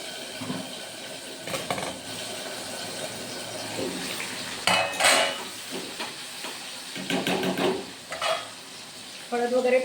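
Tomatoes go into a pan of frying onions, bringing a steady hiss and sizzle with scattered stirring scrapes and a few louder clatters, close and continuous.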